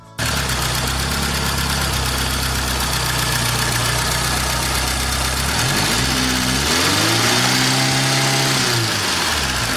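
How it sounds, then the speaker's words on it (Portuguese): A 1998 Fiat Palio engine, fitted with an adapted radiator fan motor, idles loudly up close, then revs up and down in a couple of rising and falling pulls. "Vou dar uma acelerada para aquecer o motor mais rápido para a ventoinha armar."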